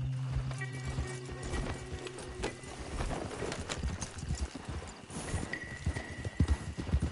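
Hooves clop rapidly and steadily as a horse gallops in Red Dead Redemption 2 Online, with a faint whinny and some background tones mixed in, all moderately quiet.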